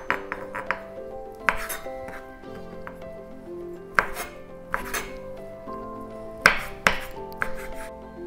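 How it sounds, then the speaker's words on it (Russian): Soaked mushrooms are chopped with a knife on a board in irregular bursts of close, sharp cuts separated by short pauses, under a faint musical background. "Сейчас мы эти грибы тоже порежем."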